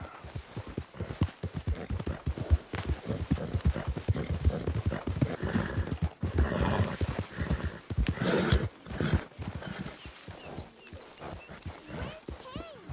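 Horse hooves clip-clop steadily up close in the Red Dead Redemption 2 video game, with a whinny rising partway through and a voice speaking briefly over the hoofbeats.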